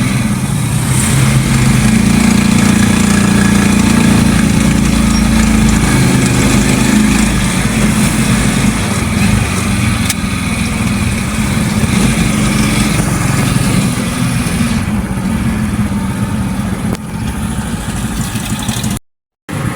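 A motorcycle engine runs steadily and loudly throughout, a close mid-pitched drone that continues almost unchanged before cutting off briefly at the end.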